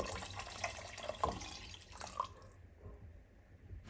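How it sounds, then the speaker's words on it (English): Goat meat stock and water poured into a pot of egusi soup, a steady close splashing and dripping pour that stops abruptly partway, leaving only quiet room tone. "you're going to add your goat meat stock and enough water to cook your soup"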